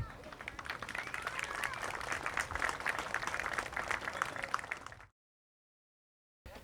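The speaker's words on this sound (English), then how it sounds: "that deserves a round of applause in itself" Crowd applauding at a fire department's fire service day, a steady wash of many hands clapping for about five seconds before cutting to silence, then resuming briefly.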